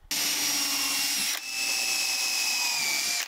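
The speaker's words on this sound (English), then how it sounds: "I'm gonna drill a hole here so I can glue these little cylinders in." A power drill whines loudly as it bores into wood in two steady bursts, the pitch dropping briefly between them.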